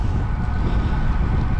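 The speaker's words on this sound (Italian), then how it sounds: "E adesso qua il vento continua" Strong wind buffets the microphone outdoors on the coast near Monte Circeo, making a loud, steady low rumble that fills the whole moment with no speech over it.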